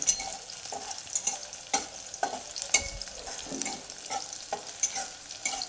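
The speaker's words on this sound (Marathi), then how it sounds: "याचा कलर बदलूपर्यंत हे तेलामध्ये लसूण तळून द्यायचा।" Garlic fries in hot oil while being stirred repeatedly with a spatula, making a close, crackling sizzle punctuated by regular scraping strokes against the pan.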